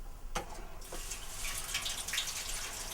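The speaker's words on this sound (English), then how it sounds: "turn the water on" Tap water, turned on to fill a bucket already holding shovelfuls of cement mix on a farm, pours in a steady, broad rushing hiss for the whole stretch, with a couple of brief splashy bursts near the start.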